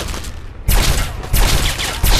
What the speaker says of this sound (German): Schieß doch schneller, du blödes Teil!